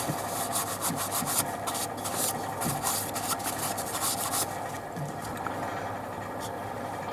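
A cloth rubs sanding sealer into the wood of a turned goblet, giving a steady close-up rasping friction under a constant machine hum.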